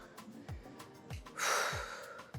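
Short audible breaths during a hip mobility stretch in a warm-up workout, a few soft inhales followed by a longer, louder exhale near the end.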